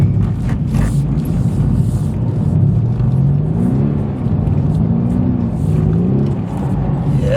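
A drift car engine revs under extra throttle, a loud continuous close rumble with rising and falling pitch as the revs climb, steady throughout with no talk.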